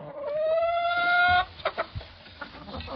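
A rooster lets out a drawn-out crow, followed by a few short, soft clucks from chickens nearby.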